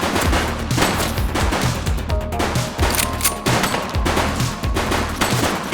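Gunfire in the video game The Precinct, dense rapid bursts of shots in a sustained loud barrage with little pause between volleys.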